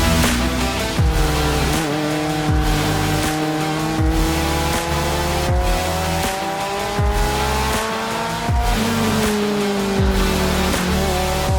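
A Lotus Elise race car howls around the Mugello circuit, its engine loud and close as it revs through rising and falling gear changes, with tyres squealing through the corners and no voices over it.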